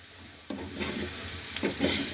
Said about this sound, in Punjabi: ਇੱਕ ਵਾਰ ਅਸੀਂ ਫੇਰ ਹਿਲਾ ਲਾਂਗੇ ਹਿਲਾ ਕੇ ਦੇਖ ਲਾਂਗੇ